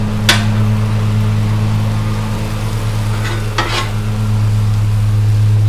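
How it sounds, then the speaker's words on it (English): Prime rib sizzles on a flat-top griddle with a constant frying crackle over a low steady hum, broken by two short sharp scraping clanks from a utensil, close and fairly loud. "actually want this prime rib to cook much more than what it is, but it needs to cook a little bit."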